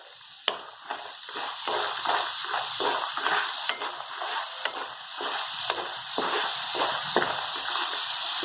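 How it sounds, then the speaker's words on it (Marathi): Spicy sandge frying in very hot oil, a continuous bright sizzle and crackle with bursts of bubbling and occasional stirring, close and steady throughout. "तेल कडक तापल्यानंतर शेंडगे तळून घ्यायचे."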